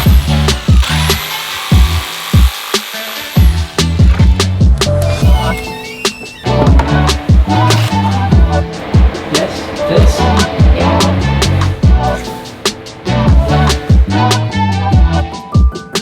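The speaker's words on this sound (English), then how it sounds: "I needed to get out my jigsaw and cut around" A jigsaw cuts a wooden stair tread around a section of wall, sounding as loud, close, choppy bursts of sawing broken by short pauses and knocks, with no talking.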